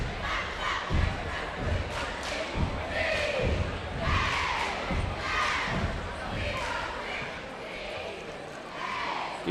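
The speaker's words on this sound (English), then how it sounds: "Gators cheer squad bringing the energy in this one." A high school cheer squad chants and cheers at a playoff boys basketball game during a media timeout, rhythmic group shouts with thumping beats echoing through a gym over crowd noise.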